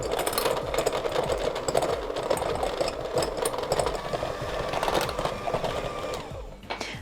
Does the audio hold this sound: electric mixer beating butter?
yes